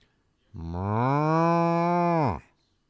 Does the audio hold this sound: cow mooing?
yes